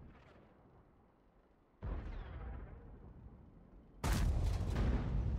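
Booming cannon blasts from a BZ-58-2 heavy tank in World of Tanks, two heavy shots with long rumbling decay, the second louder and closer, over a low background rumble.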